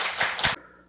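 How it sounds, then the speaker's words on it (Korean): A church congregation gives a short burst of clapping at a Monday morning Korean sermon in Seoul, two quick swells of claps lasting about half a second before cutting off into quiet room tone. "그렇게 하실 하나님께 박수 드려요"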